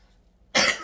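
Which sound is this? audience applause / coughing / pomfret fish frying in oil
coughing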